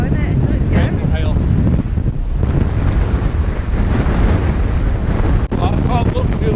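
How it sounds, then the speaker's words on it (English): Strong wind roars and buffets across an exposed mountain summit in the Lakes during a hailstorm and whiteout, a loud continuous rumble of gusts hitting the microphone while people talk over it. "Wind has really got up. Yeah, it's really windy now"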